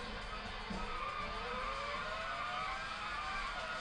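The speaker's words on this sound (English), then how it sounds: "You just hear the tires just going to town on that." Tires squeal in a PlayStation racing game from a demo disc, a continuous, rising and falling screech over a steady engine drone, loud and close with no pauses.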